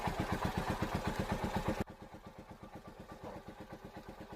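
A TVS King auto rickshaw engine idles nearby with a steady, chugging putter; the level drops partway through, and the rhythmic thumping continues more softly.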